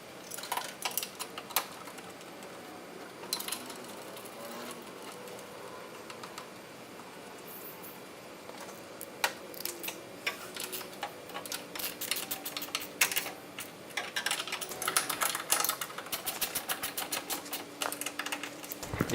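A ratchet tightens T40 bolts on a light mount at the A-pillar of a 2007-2018 Jeep Wrangler JK. Quiet rustling opens, then rapid, close, crisp clicking bursts build and grow denser toward the end.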